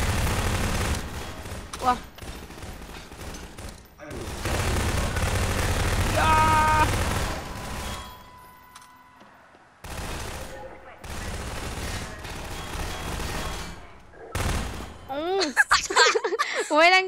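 Gunfire in the video game Garry's Mod, bursts of rapid shots and heavy blasts broken by short pauses, with people talking and shouting over much of it.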